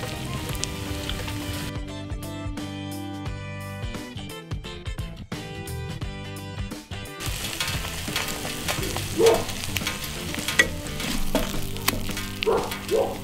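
An egg frying in a pan with bacon nearby, a steady crackling sizzle running throughout, with music playing over it and a few louder pops and spatters near the end.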